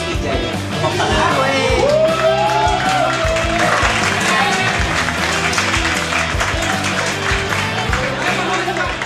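Clapping and cheering from the audience at a fun coffee roasting competition as the second- and third-place winners are announced; loud, dense crowd noise with music and voices underneath throughout.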